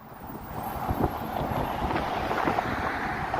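Heavy wind batters the microphone on a blustery day on Bloor Street in Toronto, a continuous low roar with occasional stronger thumps from gusts.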